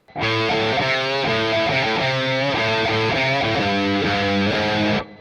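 Heavy distorted electric guitar riff in drop D tuning with low chugging notes and shifting chords, steady and loud for about five seconds, no voices.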